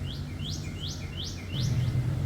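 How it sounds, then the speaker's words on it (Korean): A small bird chirps in a quick repeating series of rising, high notes, about five in a row, over a low steady background rumble. "새소리가 너무 예뻐요"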